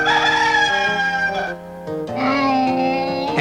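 A rooster crowing loudly and close, two drawn-out cock-a-doodle-doo calls with a brief pause between, heard alone.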